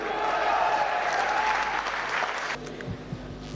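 Hall audience at a business education seminar applauding loudly as people stand for an honoured guest, a dense sustained ovation that cuts off abruptly near the end into quieter room sound.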